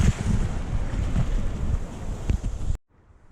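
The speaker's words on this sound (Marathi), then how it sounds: "लाटा पण बघू शकता, भरपूर मोठ्या लाटा येतात." Big sea waves at Revdanda beach, with loud continuous surf roar and wind buffeting the microphone for almost three seconds, then cutting abruptly to near silence.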